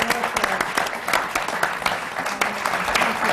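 Steady applause from a sizable theatre audience, dense clapping filling the whole stretch without pause.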